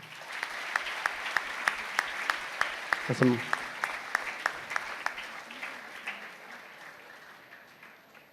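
An audience applauds a guest at an interactive session, steady rhythmic clapping that continues throughout, with a brief spoken exclamation over it.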